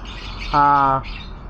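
A single pet bird gives one loud, harsh squawk lasting about half a second, close by and clear above faint background noise.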